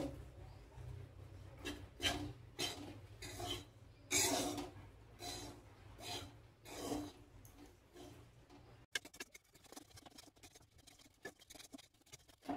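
Ghee and sattu flour being stirred together for a sweet, giving a dry, gritty scraping in uneven strokes, close and fairly quiet, with no talk.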